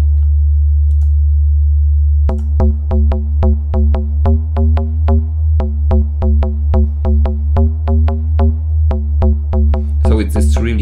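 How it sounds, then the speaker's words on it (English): Deep low synth bass from the Gem synth in a ravey techno track drones on a sustained note, then a steady pulsing pattern of plucked tones starts over it, loud and close, with a brief noisy burst near the end. "this really deep bass."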